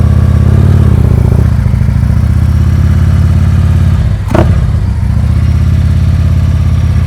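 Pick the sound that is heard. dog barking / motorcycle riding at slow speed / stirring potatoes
motorcycle riding at slow speed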